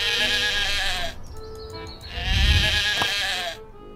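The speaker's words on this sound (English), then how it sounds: "I made the sheep baa 5 times." Sheep in the video game Otherworld: Spring of Shadows bleat repeatedly, loud wavering baas in close succession with brief pauses between them.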